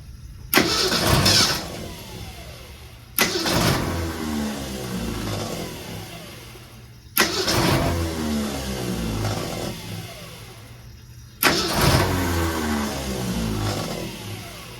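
A 1966 car engine cranks in four separate long bursts with short pauses between, turning over loudly and close by without catching, and no one speaks.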